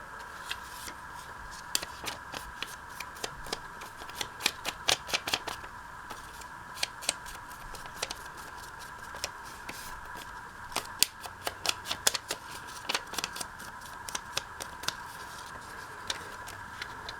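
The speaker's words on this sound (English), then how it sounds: "Then I'm going to cut off the part that was the tag to make it a vocal point." Scissors snip through paper as the tag section is cut off a vintage paper trick-or-treat bag, a run of quick, crisp, close-up cuts in irregular clusters with no talking.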